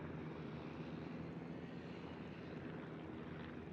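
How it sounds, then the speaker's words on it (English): Fighter and torpedo bomber squadrons from the USS Langley aircraft carrier fly in the World of Warships video game, a steady, faint propeller engine drone holding even with no talk. "I already released all 3 squadrons, my fighters and 2 torpedo bombers."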